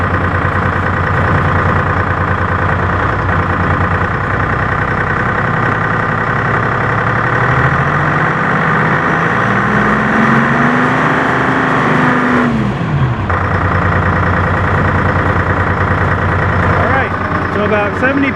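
M561 Gama Goat diesel engine running steadily after a fuel pump rebuild, a loud continuous close-up drone with a rising and falling tone in the middle where the revs briefly climb and drop, with a voice talking over it.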